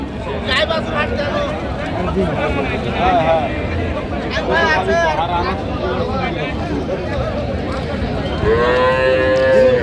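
Cows with calves mooing at a rural cattle market in Raniganj, with drawn-out lowing calls rising over a dense, steady babble of crowd chatter and nearby voices, one long clear moo near the end.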